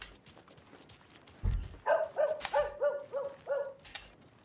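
Dogs bark in Alan Wake II, a series of about six sharp barks and yips after a dull thump, fairly close over a quiet background.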